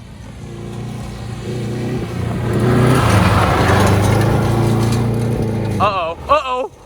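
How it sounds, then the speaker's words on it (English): A Subaru gymkhana car floors it, its engine swelling into a loud, sustained full-throttle roar that peaks midway, then a brief voice cuts in as the sound drops away. "He just floored it through there."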